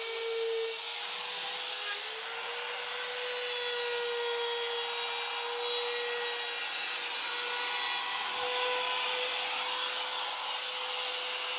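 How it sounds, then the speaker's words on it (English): Hand tool chamfering the corners of wooden thwart risers for a Catalina Wherry boat, a steady close rasping scrape over a faint sustained tone, with no voices. "So we're going to chamfer the corners of these guys."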